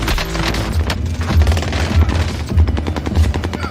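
Rapid video game gunfire crackles in a steady, fast volley of shots, loud and continuous, with a low thumping pulse underneath.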